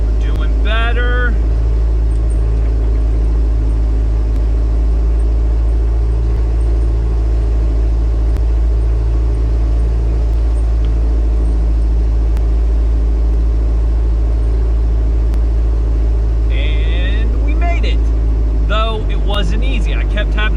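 A diesel-powered TJ Wrangler with a doubler strains uphill in two-wheel drive while its wheels spin for traction. Its engine makes a steady, loud, close rumble that holds for the whole stretch, and brief voices break in near the start and the end.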